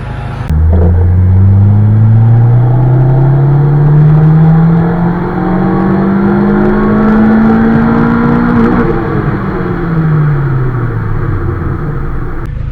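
A Honda D16Y8 engine running on E85 fuel revs steadily up to redline in a loud, close pull lasting several seconds, its tone climbing smoothly before dropping back as the throttle closes, with no talking.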